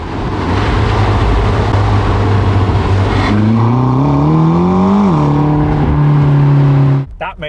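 A supercar's engine revs hard, its note climbing and sweeping up through the gears, then settling and cutting off, loud and close with road and wind noise beneath.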